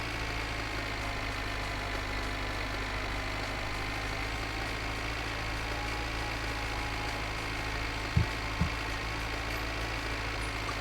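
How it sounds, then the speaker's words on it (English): A tractor engine idles in the video game My Winter Car, giving a steady, low, droning hum that stays even throughout, with two brief soft thumps near the end. "Is there a mod out yet that reduces the tractor noise?"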